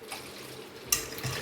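Water poured into a pot of finger millet flour porridge mix, a brief soft trickle followed by a sharper splash, faint and close.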